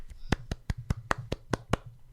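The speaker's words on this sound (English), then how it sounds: "Golf clap." A slow, deliberate golf clap: eight crisp, close hand claps at an even pace, with a faint low hum between them.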